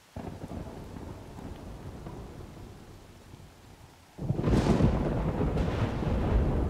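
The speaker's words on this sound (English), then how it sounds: "It's rainy. and Thundery." Steady rain patters throughout in the video game Horizon Forbidden West, then a loud rumble of thunder rolls in and sustains over the downpour.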